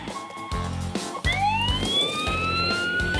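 A cartoon fire engine's siren starts up and climbs into a rising wail over upbeat children's background music, loud and continuous once it begins.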